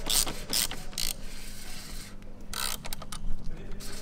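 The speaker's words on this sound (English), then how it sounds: "Undo the oil filter." Ratchet loosening the oil filter on a McLaren 570S during a service, with quick clicking bursts over a steady workshop background hum.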